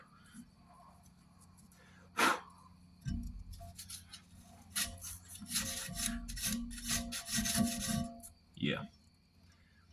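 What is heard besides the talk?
sanding a knife blade with sandpaper or emery cloth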